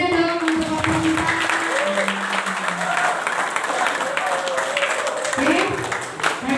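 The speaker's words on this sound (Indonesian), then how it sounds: "Beri tepuk tangan yang meriah dong untuk Pastor Ronald." Audience applause at a parish youth church gathering, a steady wash of clapping running throughout, fairly close and dense, with voices and tonal sounds mixed in.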